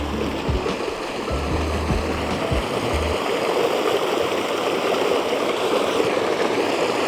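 Fresh water gushes into a trout-holding tank at a raceway fish farm, a strong, continuous splashing rush at close range with a brief low rumble near the start.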